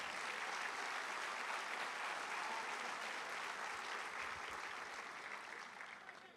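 A church congregation applauds, a dense, steady wash of clapping from a large crowd that holds evenly for several seconds before easing slightly at the end.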